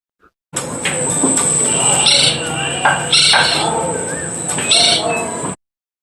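A woodpecker gives several separate bright calls over a steady background hiss, each call short and clear against the ambient noise.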